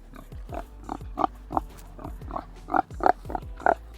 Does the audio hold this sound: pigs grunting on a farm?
yes